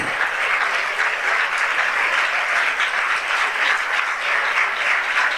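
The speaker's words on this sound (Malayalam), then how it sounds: "ദൈവത്തെ ഒന്ന് സ്തുതിച്ച് എല്ലാവരും ഭക്തിയോടെ ഹല്ലേലൂയ കൈയടിച്ച് സ്തുതിച്ചേ." Church congregation clapping together in praise during a sermon, a steady dense wash of applause that holds at full strength throughout with no voices over it.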